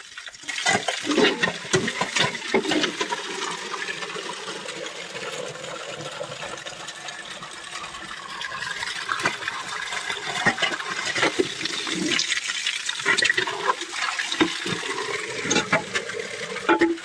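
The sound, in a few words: filling water from a tap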